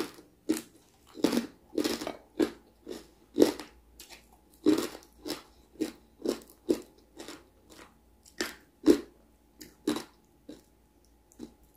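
Crispy Thai pork belly is bitten and chewed up close. Loud, crackly crunches repeat in an irregular rhythm about once a second, with short quiet gaps between bites and no talking.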